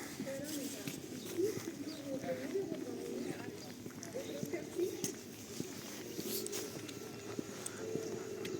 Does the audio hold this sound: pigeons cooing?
yes